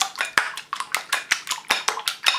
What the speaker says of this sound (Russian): Я расколочу венчиком яйцо